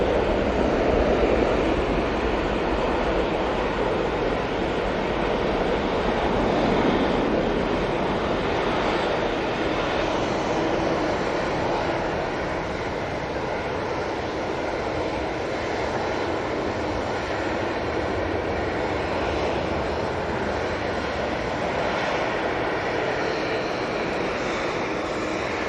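Jet airliner taking off at Manchester Airport, a distant, broad, steady engine roar with rushing noise that swells early and slowly fades over about twenty-five seconds, no speech.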